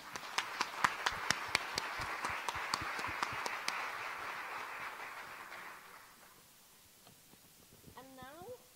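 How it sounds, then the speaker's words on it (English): An audience at an international symposium applauds to welcome a panel. The clapping is steady and fairly distant, fades out after about six seconds, and a voice briefly begins speaking at the end. "Let's give our panelists a round of applause to welcome."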